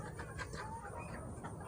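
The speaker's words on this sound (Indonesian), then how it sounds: "karena ayam ini ngorok ya kawan-kawan" A sick chicken with a snoring respiratory illness gives a few faint, raspy bird sounds close by over a steady low background hum, with no talking.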